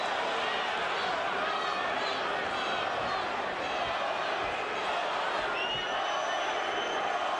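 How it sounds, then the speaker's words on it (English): Boxing arena crowd during the 2003 Vitali Klitschko vs Corrie Sanders heavyweight fight, a loud dense roar of many voices filling the whole clip with rhythmic chanting swelling throughout. "Crowd is chanting, Vitali, Vitali, Vitali"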